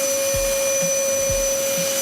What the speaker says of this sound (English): Fire up sequence, its main two blowers, which are these ones here,